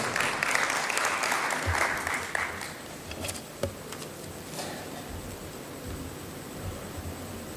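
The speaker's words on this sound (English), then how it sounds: "A round of applause." An audience claps for Professor Peter Anyang Nyong'o at a meeting convened by the President, a dense, steady patter that fades after a couple of seconds into faint room noise with scattered claps.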